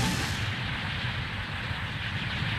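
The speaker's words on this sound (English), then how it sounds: "So I think the explosions in the X collection might be a little different" Boss-defeat explosion in the video game Mega Man X4, a sustained dense rumbling blast with continuous crackling bursts at steady loudness, with no talking.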